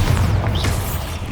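A Bombarda blast spell in the game Hogwarts Legacy, a loud, close, deep boom with a rumbling low-end burst that decays over about a second.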